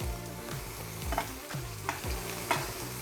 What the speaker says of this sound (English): Now we're gonna baste. So I'm gonna pull that butter down and warm the top of that steak up with that butter.